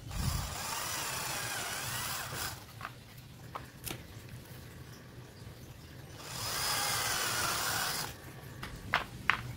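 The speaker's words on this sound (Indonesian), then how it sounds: "saya akan lubangi di tanda titik ini pakai bor diameter 2 atau 3 mm." A power drill with a 2–3 mm bit whirs into wood in two sustained bursts, first at the start and again later, with quieter mechanical rumble and a few sharp clicks between.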